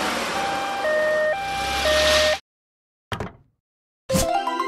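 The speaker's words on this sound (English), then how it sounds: "Ambulance." Ambulance siren wailing loud and close in a repeating two-tone pattern, cutting off abruptly, followed by a short burst and another siren-like tone.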